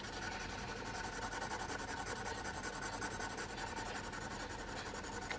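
Brush marker tip scratching steadily across paper, a continuous dry rasping with no pauses, close and fairly loud, no voices.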